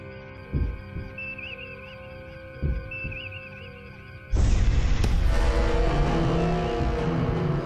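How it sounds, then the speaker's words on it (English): Heartbeat sound effect in a Star Trek Continues episode, two deep thumping beats spaced a couple of seconds apart over a steady electronic hum, then a sudden surging roar and rumble takes over. "That's a heartbeat."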